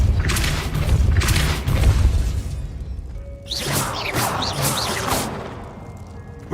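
Repulso spell cast in Hogwarts Legacy, heavy booming whooshes and crashing impacts, a couple of strong blasts followed by swishing, scattered hits and fading rumble.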